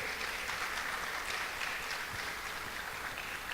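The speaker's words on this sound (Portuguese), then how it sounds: "Dá uma salva de palmas a esse Jesus maravilhoso" A church congregation applauds during a sermon on the blessings of prayer, steady dense clapping that stays even and fairly soft throughout, fading slightly at the end, with no speech.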